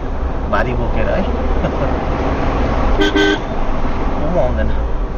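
A car horn gives a short, clear toot amid steady road traffic rumble, with a fainter honk earlier and voices talking over the scene.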